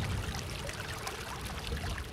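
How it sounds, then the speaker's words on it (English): Fresh spring water from a natural spring on high ground on the Isle of Skye pours steadily into a bottle outdoors, a continuous close gurgling rush with no voices. "So I fill my bottle up."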